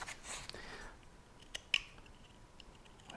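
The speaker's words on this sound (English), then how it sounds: "create the fingertips by making that cut there" Scissors make a few crisp, quiet snips while cutting the fingertips on a handmade figure's hand, with two sharp clicks standing out against a soft background hiss.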